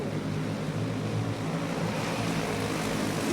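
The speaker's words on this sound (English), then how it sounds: "You can hear the rumble of those engines." Racing kart engines at a WKA regional championship race drone steadily as the pack runs together, a sustained loud rumbling hum with no talk over it.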